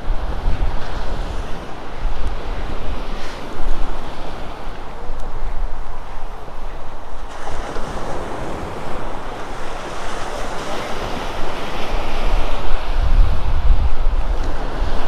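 Sea waves roll steadily onto the shore at Cooper's Island, Bermuda, a loud continuous surf wash with wind buffeting the microphone, swelling again toward the end.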